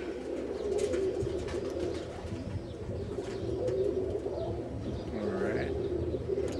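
Pet pigeons coo steadily, a low rolling murmur from several birds close by, continuing throughout with no talk.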